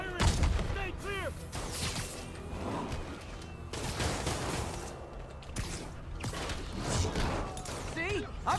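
Gunfire in Marvel's Spider-Man game combat, bursts of shots, crashes and thuds layered under shouted voices and music throughout, loud and dense with brief surges.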